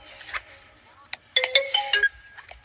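A phone ringtone sounds in a Hindi movie scene: a bright electronic melody of quick rising and falling notes plays clearly after a few scattered sounds, with faint voices nearby.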